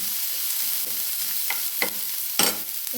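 Onions sauté lightly in a pan for podi paniyaram, making a steady near sizzle with a few spatula stirs and a sharper scrape toward the end. No one speaks.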